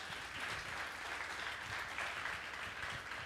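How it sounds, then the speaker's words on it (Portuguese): A church audience gives a round of applause during a sermon on family, a steady, fairly distant patter of many hands clapping that continues evenly throughout. "Pode dar uma salva de palmas aí para essa ideia."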